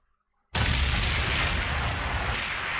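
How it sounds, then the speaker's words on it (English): A sudden, loud explosion sound effect bursts in after a moment of near silence, then sustains as a dense, roaring rumble that barely fades over the next couple of seconds. "So, you gonna hit the explosion?"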